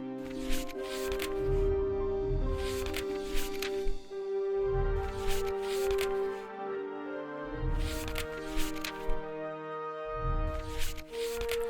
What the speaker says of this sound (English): listen to the paper turn sounds